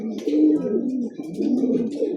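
A racing pigeon coos softly and nearby on arrival at the loft, a low rolling burble repeated twice in quick succession.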